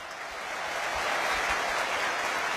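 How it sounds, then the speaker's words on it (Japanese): Sustained applause from the stadium crowd at a Chiba Lotte Marines baseball hero interview, a broad, even roar of clapping that swells slightly and holds steady throughout. "大きな拍手をお送りください。"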